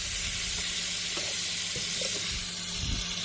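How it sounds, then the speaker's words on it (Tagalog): Sliced squid for adobong pusit sizzling in a hot pan, a steady loud hiss of frying oil with a few soft stirring clicks and no talking. "Ngayon naman po ay i-add na po natin yung ating pusit."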